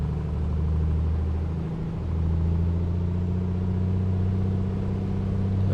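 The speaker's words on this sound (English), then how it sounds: "So let's put mixture fully rich, open the throttle," A light aircraft engine in Microsoft Flight Simulator drones through a run-up at Gamston Airport, rising to a steady open-throttle roar after a brief dip, loud and alone without talk.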